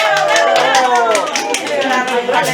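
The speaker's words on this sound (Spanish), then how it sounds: "Bravo, palmas." Audience clapping at a children's dance performance in Huaribamba, a brisk steady patter of many hands heard over talk and background music.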